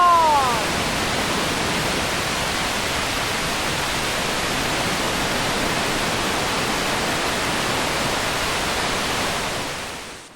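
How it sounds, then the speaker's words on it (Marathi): Loud, continuous rushing roar of a monsoon waterfall near Pune, Maharashtra, steady and broadband throughout, close by. "हा धबधबा पाहिला"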